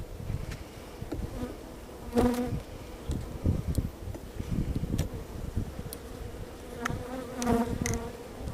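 Dense, agitated buzzing of many honey bees close by during a hive inspection, a continuous droning swarm with occasional louder passes and a few knocks as the hive is closed.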